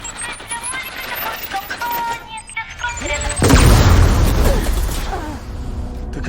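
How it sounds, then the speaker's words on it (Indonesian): A remote control car blows up in an action film scene, a sudden loud blast that bursts out of quieter background sound and decays into a rumbling roar. "sebuah mobil remote control mendekati mereka berdua yang tiba-tiba meledak di dekat mereka"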